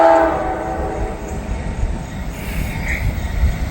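A CPKC locomotive running with a heritage unit in the Bluegrass sounds a brief horn blast that quickly trails off, followed by the low, rolling rumble of the train passing nearby.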